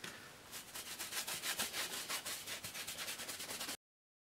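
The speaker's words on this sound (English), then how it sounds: "I'm gonna brush it down with some baby powder just to take off the stickiness." A brush sweeps baby powder over a sticky creature cast in quick, even rhythmic strokes, soft and close, running steadily for several seconds before stopping abruptly.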